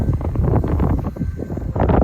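Gusty wind buffets the microphone in rough, uneven bursts, loud and close, with no voices, on a high flat building roof near the sea in Odesa.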